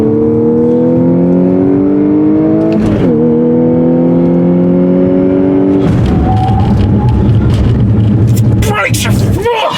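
A 2014 Audi S4 Quattro accelerates hard around a tight racetrack, its engine note climbing through gears with a shift near three seconds, loud and close, while someone talks and exclaims over the engine throughout.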